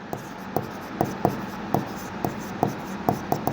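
Chalk or marker writing on a board, a series of short scratchy strokes tapping out in an irregular rhythm, close and fairly faint, with no voice over them.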